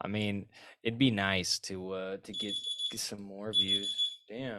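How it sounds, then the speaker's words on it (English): A phone alarm sounds in two short bursts of high, piercing electronic beeping under and between ongoing conversation between podcast hosts. "That's the most annoying, obnoxious, loudest alarm on my phone."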